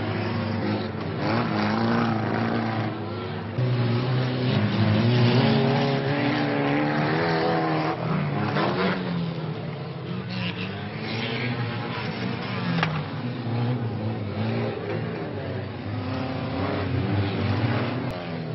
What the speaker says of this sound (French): Les moteurs sont en pleine puissance.